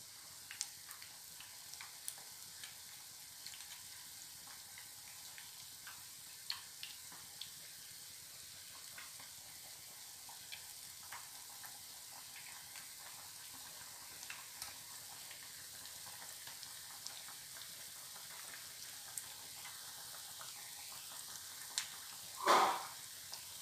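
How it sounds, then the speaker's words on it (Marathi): Battered chicken lollipops deep-fry in oil with a soft, even bubbling hiss that holds steady throughout, dotted with small ticks and pops, and one louder clatter near the end. "आता आपण चांगलं तळून घेणार आहे"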